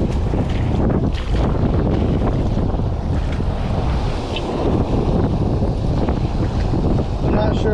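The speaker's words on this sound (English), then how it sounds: "sorry if the audio is a little cheeks, it is windy as poop out" Strong wind buffets the microphone on a lakeshore while shore fishing for walleye in spring, a constant loud roaring rumble with gusty surges and no speech heard.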